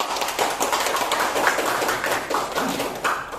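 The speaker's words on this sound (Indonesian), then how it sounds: "bagus, tepuk tangan dulu" A class of students claps hands in a classroom, a steady burst of fairly soft, dense clapping lasting a few seconds with no speech over it.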